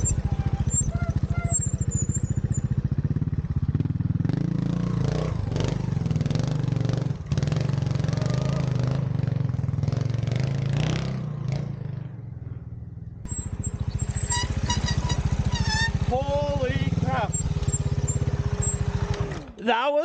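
A 2022 Montesa Cota 301rr Repsol trials motorcycle ridden over soft loam, its engine a continuous near putter with throttle blips and revving, and a rider talking over it at times.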